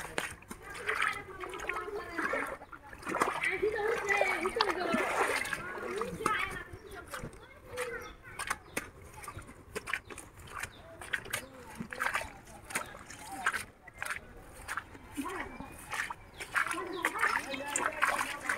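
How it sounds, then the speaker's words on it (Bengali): Floodwater flowing from a wetland toward the river during a severe flood in a Bangladeshi village, heard as continuous splashing and sloshing water with voices talking over it throughout. "আবার এই যে দিক দিয়ে বিল দিয়ে পানি নামতেছে"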